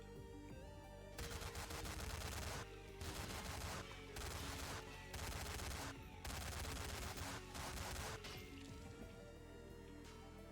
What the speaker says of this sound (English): Hank gets a fucking minigun because it's cool like that.